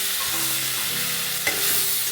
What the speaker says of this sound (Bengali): দেখুন আলুগুলো একটু ভাজা ভাজা হয়ে গিয়েছে, এর মধ্যে এবার আমি টমেটোগুলো দিয়ে দিলাম